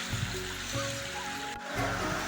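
Water flowing at Jharjhara Mata waterfall in Gariyaband, heard as a steady broadband rush that holds throughout, with faint low thumps underneath and no clear talk.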